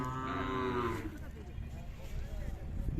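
Khillar cattle low with a loud, sustained moo during the first second at the Umadi livestock fair in Jat taluka, followed by a busy mix of crowd noise and indistinct voices.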